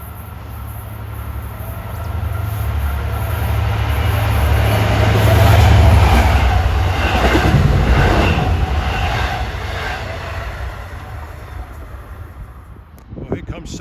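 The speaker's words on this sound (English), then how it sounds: "Golden Light frames train 562, Jamaica to Oyster Bay. Speeding east on track number 1." A Long Island Rail Road train, Jamaica to Oyster Bay service, speeds east on track 1, its roar building to a loud peak near the middle with rhythmic wheel clatter before fading as it passes.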